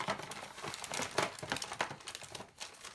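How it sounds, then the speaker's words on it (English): Foil sample packets handled up close, with soft continuous crinkling and rustling in short uneven bursts and no voices. "I'm gonna grab a couple foil packets if I have any."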